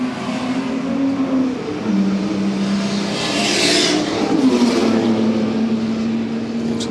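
A C-type race car with apparent gear selection trouble at the Goodwood Revival, its engine droning steadily and shifting pitch as it runs, close and loud throughout with a brief swelling passage midway.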